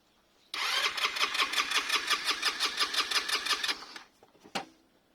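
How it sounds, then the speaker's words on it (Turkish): A Mondial MASH 150 motorcycle with 43,000 km and low fuel is cranked on its electric starter, making a fast rhythmic chug for about three seconds before it stops, followed by a single sharp clunk. "Bismillah deyip marşa basalım"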